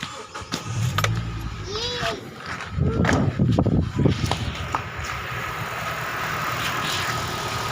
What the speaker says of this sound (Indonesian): coba kita hidupkan mesin